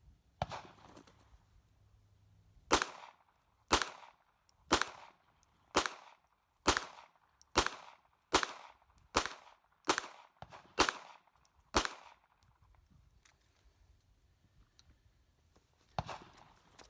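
A 22/45 Tactical pistol fires eleven rapid shots at an outdoor range, loud sharp cracks in a quick, nearly even string, with one more isolated shot a few seconds later and no talking.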